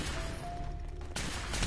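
Gunfire in the Fallout video game: a sudden loud burst of shots cuts in after a quieter stretch with a faint tone, then continues densely to the end with no talking.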